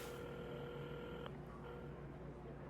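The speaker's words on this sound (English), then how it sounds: "Carmen had started dialing the phone" A phone being dialed in the Assemble with Care video game, heard as steady electronic keypad tones that shift pitch partway through, over a dense, even background hum.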